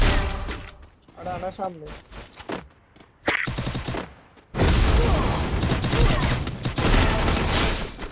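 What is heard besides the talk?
sniper gunfire in a Krul Gaming video game clip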